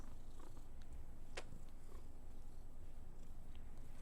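Pet cat purrs softly and steadily at close range, a faint low rumble that continues throughout, with a brief sharp click partway through.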